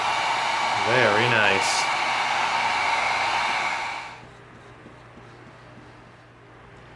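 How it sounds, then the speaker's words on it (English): A heat gun seals an EVA foam prop pistol piece, blowing as a loud steady roar up close for about four seconds before cutting off. A voice briefly speaks over it. "We're going to get our heat gun out. We're going to seal it."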